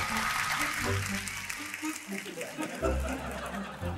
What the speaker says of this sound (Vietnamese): Gì mà reo hò dữ vậy?